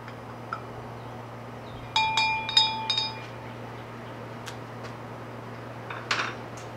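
Glass clinks and light tinkles as liquid is stirred in a glass vessel, a short cluster of bright ringing taps followed by a few sparse knocks over a steady low hum.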